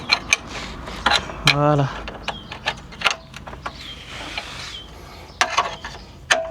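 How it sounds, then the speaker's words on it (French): An open-end wrench loosening a fastener on a BMW N54 engine, with metallic clicks, scrapes and a brief ratcheting rattle close by, while someone speaks briefly. "je prends ma clé plate et je dévisse"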